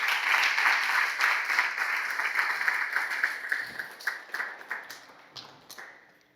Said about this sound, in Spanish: Vamos a darle palmas al Señor de la gloria.